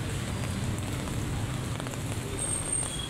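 Steady rain falls on surfaces in an even, dense patter that holds through the clip without a break, close and moderately loud, with no voices.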